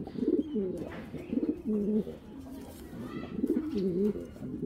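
A male racing pigeon coos close by in a loft: three rhythmic rounds of deep, throaty, warbling calls, each rising and falling, with brief quiet gaps between them over faint background noise.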